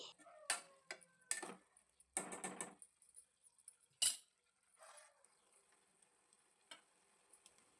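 Garlic cooking in a coconut curry, with several sharp spoon clinks and scraping stir strokes against the pan and a faint simmer between them.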